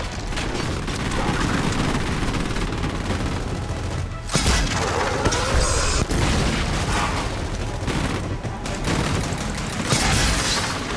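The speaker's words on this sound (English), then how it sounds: "I love the drop shot." Dropshot weapon firing in the Gears of War 4 Swarm trailer, loud dense bursts of heavy game gunfire and booms running continuously with sharp cracks mixed in.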